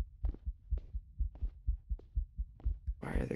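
A steady, thudding heartbeat from a spooky video game, about a dozen deep, evenly spaced beats close up, ending in a burst of hissy noise.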